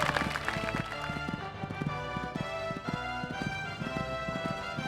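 Horse hooves pound at a steady, rhythmic gallop during a show jumping round on a sunny outdoor course, close and clear over a constant background hum.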